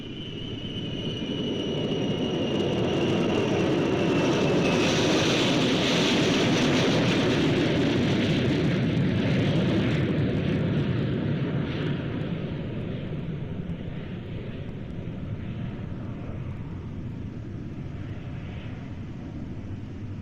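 A Mirage III prototype jet from 1960s France roars loudly and steadily for about twenty seconds, a broad rushing thrust with a thin whine above it, slowly easing off toward the end as it departs leading a patrol formation.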